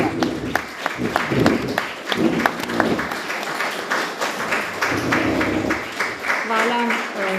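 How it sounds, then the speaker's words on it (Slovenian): An audience claps after a talk about a book, with sharp individual claps standing out over a busy crowd while voices speak on top of the applause throughout. "Hvala za aplavz"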